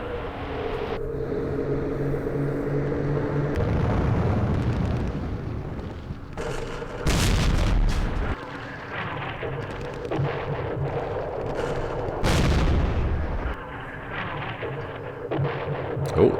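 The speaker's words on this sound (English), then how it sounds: "Ah, another airstrike." Airstrike in Campaign Series Vietnam, with several heavy, rumbling explosions arriving in separate bursts, loud and booming against a steady background drone.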